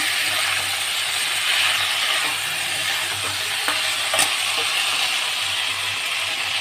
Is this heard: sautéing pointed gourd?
yes